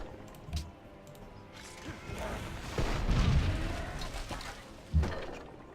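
Civilization V city bombarding an enemy knight: a couple of short booms with a rumbling impact swell in between, moderately loud against quiet game ambience.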